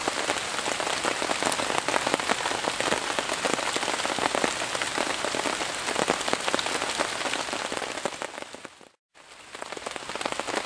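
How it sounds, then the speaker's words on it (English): Heavy rain drums hard and continuously on a poncho, a dense close patter of drops that cuts out abruptly for a moment before resuming. "That's how hard the rain's coming down."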